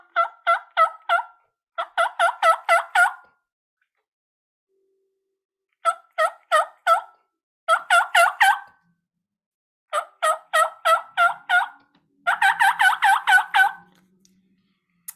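A hunter's turkey call mimics a boss hen's yelping in loud, clear bursts of rapid yelps, each series of five to eight notes separated by short pauses, with a longer gap near the start.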